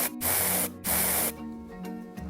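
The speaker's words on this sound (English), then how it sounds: "Let's spray the deodorant." Deodorant spray can hissing in two loud bursts of about half a second each, broad and steady, followed by quiet room tone.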